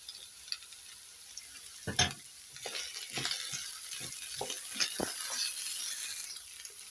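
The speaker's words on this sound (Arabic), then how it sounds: "هنشوحها هسه ويا اللحم. البطاطس طبعا هم اخذت تشويحه. حضيف الفلفل عليهم،" Steady sizzle of potatoes, peppers and meat being sautéed together in a pan, with a few sharper stirring knocks and scrapes near the start, close and moderately loud.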